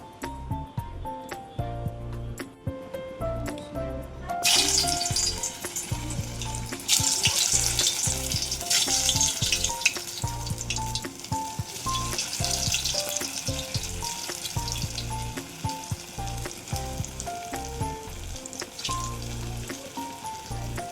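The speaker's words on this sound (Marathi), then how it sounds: "याला थोड्या वेळ असंच तळू द्या." Aloo vadi slices fry in hot oil in a kadhai, giving a loud, steady crackling sizzle that swells after a quieter few seconds and runs on continuously with scattered faint clinks.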